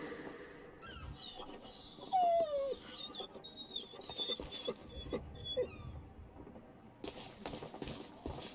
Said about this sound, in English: Oh, those poor dogs. The governor's guard dogs get tormented by the guards